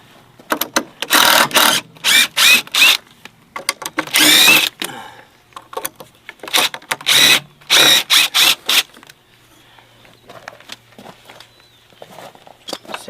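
A power drill unscrews fasteners from wooden barn supports in repeated short whirring bursts, each lasting under a second, spaced by pauses, close and loud, before a quieter stretch at the end.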